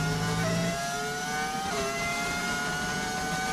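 A Ferrari Formula 1 car engine in the racing video game F1 25 screams at high revs, pitch rising through gear changes in a continuous loud whine, with no talk over it.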